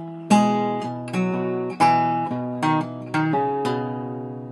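An acoustic guitar plays measure 60 of a song, plucking about seven ringing notes and chord stabs in an uneven melodic rhythm. The playing is clear and close, with each note decaying under the next.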